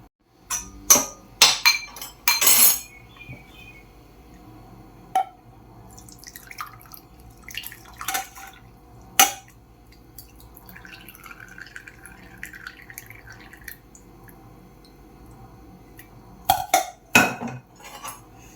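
Boiled henna decoction is strained into a vessel, with sparse drips and clinks of metal and glass, a few louder knocks near the start and end, and quiet stretches between.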